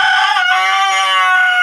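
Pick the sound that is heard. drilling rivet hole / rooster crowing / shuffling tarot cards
rooster crowing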